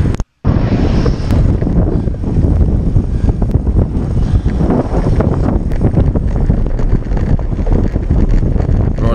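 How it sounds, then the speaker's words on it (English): Strong wind roars continuously against the microphone of a cyclist riding on a road during a group ride, loud and unbroken after a brief dropout at the start, with no talking. "We're headed south, and it's very windy."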